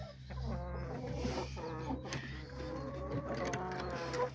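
Chickens cluck nearby in a busy barnyard chatter, with a person talking over the birds.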